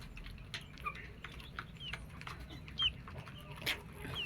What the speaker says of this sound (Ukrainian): Ну, це курочка, а ось півник.